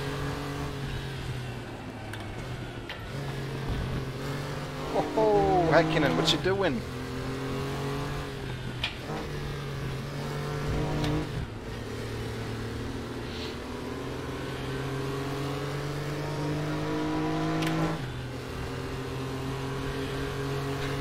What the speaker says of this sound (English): Man, such good traction with these rear engine Porsches.